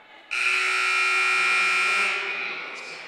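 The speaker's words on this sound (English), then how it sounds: "It feels like we're at a game show with all the buzzers going off." Loud electronic buzzers sound at a college women's basketball game during a substitution break, one sustained harsh buzz holding steady for over two seconds before easing slightly, with no talking.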